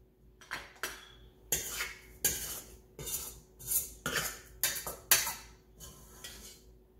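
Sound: cutting pounded yam into a big serving bowl

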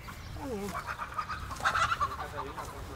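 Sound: East Frisian Gull chickens clucking

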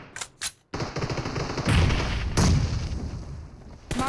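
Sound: gunfire in video game BGMI

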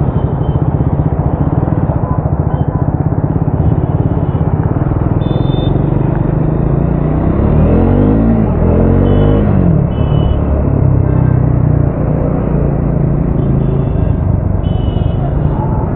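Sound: motorcycle riding through road traffic

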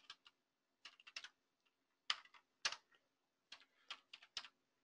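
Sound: typing a command on a computer keyboard

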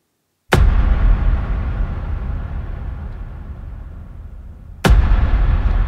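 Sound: big boom drum effect from Spitfire Hans Zimmer percussion

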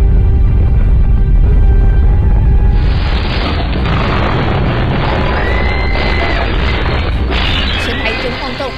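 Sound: earthquake rumble and roar sound effect

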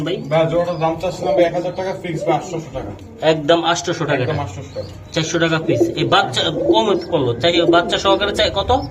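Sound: pigeons cooing

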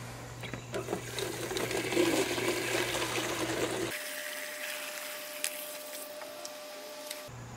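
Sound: rainwater filling a milk jug

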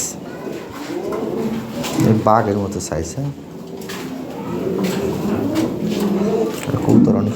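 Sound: fancy pigeons cooing

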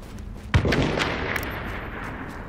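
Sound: gunfire in a video game

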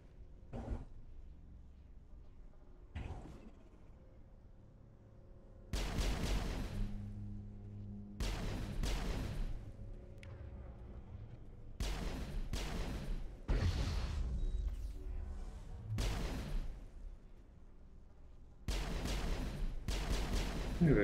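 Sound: grenade explosions and gunfire in the video game Mass Effect

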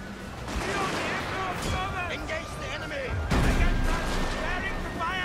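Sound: musket volley gunfire in Shogun 2: Fall of the Samurai video game

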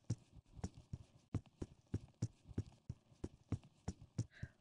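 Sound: Friesian horse hooves walking, from video game Equestrian The Game

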